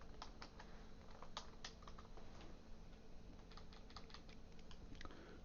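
Steady keystrokes on a computer keyboard during a GVim text-editing session, close and continuous with scattered sharper clicks, no voices.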